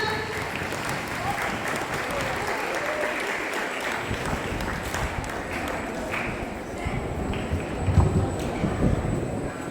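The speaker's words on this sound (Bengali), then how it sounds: "সবাই একটা জোরে হাততালি হয়ে যাক" Crowd applause for Arpana Mashi at a Labour Day event, a steady dense clapping that carries through the whole stretch with a slight swell near the end and some voices mixed in.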